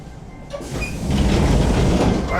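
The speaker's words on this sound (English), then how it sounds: "I just saw another train go past there" A subway train at Kyoto Station rumbles past nearby with a steady rushing roar and faint rail clatter, building in loudness after a quieter start.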